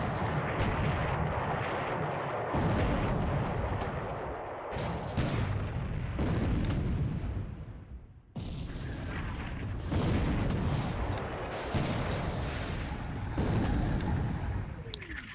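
Heavy naval gunfire pounds a fleeing invasion fleet in a World War II naval strategy game, a dense run of booming salvos and rumbling blasts that overlap almost without pause, loud and close throughout.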